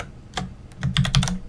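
A short burst of typing on a computer keyboard while editing in Emacs: a single keystroke, then a quick cluster of several clicks, close and fairly light.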